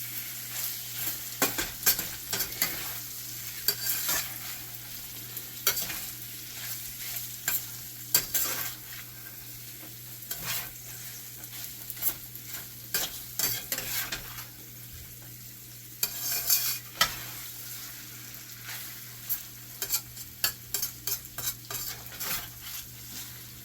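A cheese steak sloppy joe mixture stirred in a hot pan, continuous sizzling with repeated scraping and clinking of a spoon against the pan in an uneven rhythm, close and fairly loud, with no talking.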